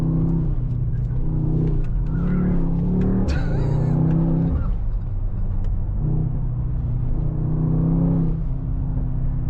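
A 2024 Mercedes-AMG GT 63 S 4-door coupe with a 4.0-litre V8 biturbo engine rumbles along at moderate speed, with a deep steady engine drone and a few rises in revs heard from close by.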